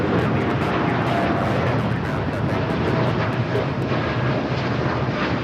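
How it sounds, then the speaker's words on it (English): An Aeromexico Boeing 787 Dreamliner taxis toward runway 25 right at LAX, its engines giving a steady, loud, broad rumble with wind-like noise throughout. "Air Mexico Dreamliner heading back to Mexico City, rolling down to 25 right"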